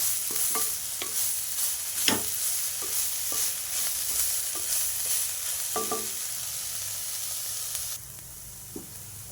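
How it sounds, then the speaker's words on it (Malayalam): Chammanthi ingredients are stirred together in a hot pan under a constant loud sizzle, with a spoon scraping and tapping the pan in irregular strokes before the hiss drops lower near the end. "എല്ലാം കൂടി ഒപ്പം ഇളക്കി കൊടുക്കാം"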